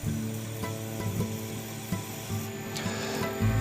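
A wooden shaving brush turns on a lathe while sandpaper lightly sands its CA finish, a steady low rubbing hum with a faint drone throughout and no pauses.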